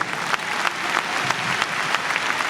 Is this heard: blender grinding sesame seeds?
no